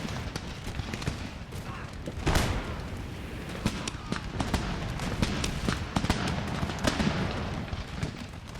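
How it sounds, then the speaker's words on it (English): Musket volleys from Empire: Total War crackle in dense, ragged bursts of distant gunfire over a steady battlefield rumble, with sharper close shots standing out now and then. "Raking fire down their flank."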